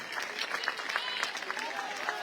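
A crowd at a political rally in Jalandhar applauds in a brisk spatter of claps, the individual hand claps clearly audible as the clapping swells and holds.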